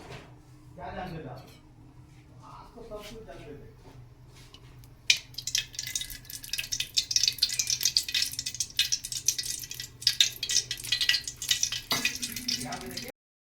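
Hot oil poured into a wok (kadai) sets off a loud, steady sizzle and crackle that starts suddenly and keeps going for several seconds. Quieter cooking sounds come before it, and the oil dies away abruptly at the end.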